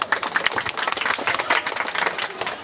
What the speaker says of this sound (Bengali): আমরা স্যারকে করতালির মাধ্যমে স্বাগত জানাবো।